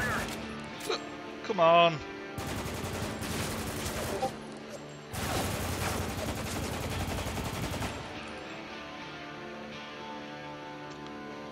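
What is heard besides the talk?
gunfire in the video game Spec Ops: The Line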